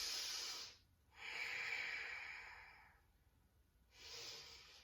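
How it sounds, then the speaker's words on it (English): Three slow, deep breaths during a yoga session for the low back, each a soft airy rush through the nose or mouth, with quiet pauses between them, close and fairly quiet with no talking. "Take 2 breaths here."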